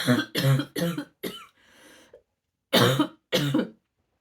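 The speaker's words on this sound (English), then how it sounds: "I may cough throughout this podcast" Several dry coughs in quick succession, close and loud, followed by a short breathy pause and two more coughs.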